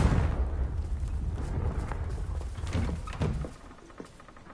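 Confringo blasting spell exploding in Hogwarts Legacy: a loud, low, rumbling blast that decays over a few seconds, followed by fainter debris clatter.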